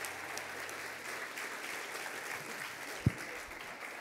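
Audience applause at a hackathon closing ceremony in San Francisco, a steady, moderately distant wash of clapping throughout, with one sharp thump near the end.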